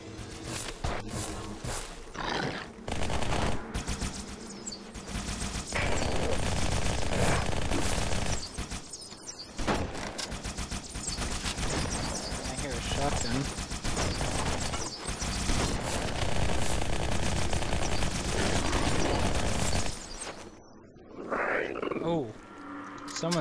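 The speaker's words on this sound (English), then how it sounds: "Shooting rockets." Dense, loud gunfire and rocket launcher blasts in Halo 2 roll on almost without a break, with heavy booms and crackling explosions. The noise drops out abruptly near the end.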